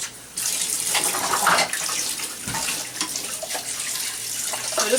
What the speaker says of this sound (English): So I just kind of rinse, give everything a quick little rinse.